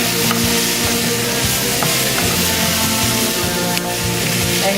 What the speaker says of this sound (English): you're gonna let that cook for a little bit on medium heat